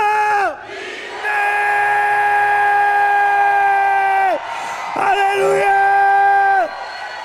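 A church congregation at a youth conference roars a chanted word in unison, long and loud, holding the shout for several seconds, breaking off, then surging again into another drawn-out massed yell until voices strain.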